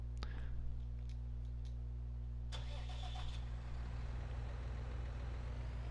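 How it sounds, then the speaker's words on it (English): A modded medium tractor engine in Farming Simulator 19 on console, idling with a steady low hum and a few faint clicks and ticks near the start, fairly quiet throughout. "So it sounds very similar to the base game tractor as well."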